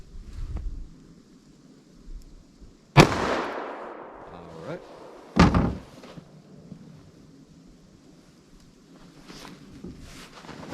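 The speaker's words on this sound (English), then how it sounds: "let's see what we get with our 357 Magnum from our snub here" A .357 Magnum snub-nose revolver fires into ballistic gel, giving a sharp, loud report with a ringing tail, then a second similar blast a few seconds later, with wind noise and soft voices around them.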